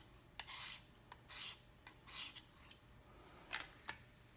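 A knife edge is drawn in very light strokes from heel to tip across a KME sharpener stone while polishing toward a mirror edge. The quiet rasping swipes come one at a time with small clicks between them, and no one speaks.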